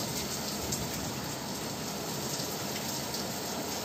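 Steady downpour of heavy rain, a thick continuous wash of falling water and splashing on surfaces, close and even throughout with no talk.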